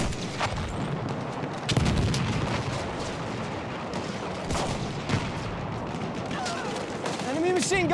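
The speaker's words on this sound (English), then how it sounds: "Enemy machine gun over there!" Battlefield 1 combat: bursts of machine gun fire and booming artillery-like blasts, sharp and repeated across the scene, with voices talking underneath.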